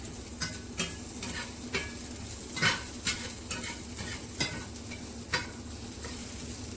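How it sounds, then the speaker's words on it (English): Leftover meatball and rib meat sizzles and crackles in a pan, with irregular spatters and occasional utensil scrapes, close and fairly quiet, no voices. "I'm frying this shit up."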